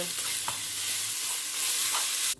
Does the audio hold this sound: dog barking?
no